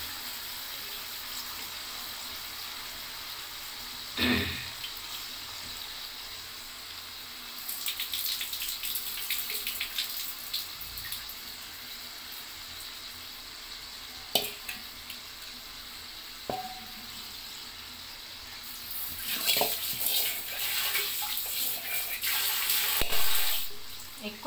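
Water runs from a kitchen tap while minced mutton keema is rinsed by hand, a soft, continuous trickle with occasional splashes and louder bursts of water and stirring toward the end.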